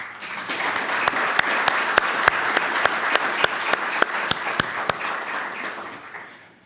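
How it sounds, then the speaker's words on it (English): Sustained audience applause after an inaugural academic lecture, dense clapping that swells in and holds steady with a few sharp, regular claps cutting through, then tapers off. "I think we should offer our colleague a well-deserved round of applause."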